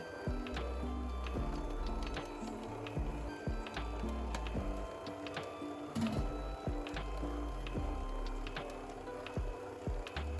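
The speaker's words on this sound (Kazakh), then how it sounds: "Қанттың қамырға жақсылап миксерленуіне менде шамамен 5-6 минут кетті." An electric mixer works sugar into bread dough for toast loaves made with a sourdough starter, giving a steady low motor hum with irregular knocking and clicking as the dough turns, close and continuous.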